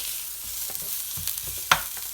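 Onion fries in a pan for a soya chunks curry, giving a soft crackling sizzle broken by a few sharp clicks and stirring scrapes, with no voices.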